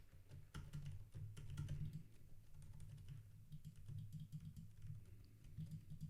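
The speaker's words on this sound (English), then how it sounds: "I'm hitting the mouse, I'm hitting the keyboard here as we speak" Quiet, close computer keyboard typing and mouse clicks: a fast, irregular patter of key taps mixed with occasional sharper clicks, continuing without pause.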